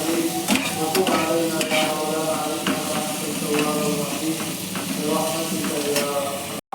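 Two large chopped onions frying in oil with garlic paste, a loud, steady close sizzle with scattered stirring clicks and scrapes, running continuously before cutting off abruptly at the end.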